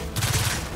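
Rapid burst from the shock enforcer gun in Gears of War 4, a short run of about six quick punchy shots under a broad hiss, loud and close, with no talk.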